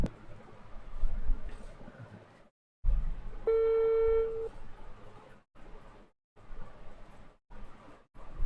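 A telephone dialing tone plays once for about a second, a steady beep with stacked harmonics, surrounded by faint room noise and brief gaps in between.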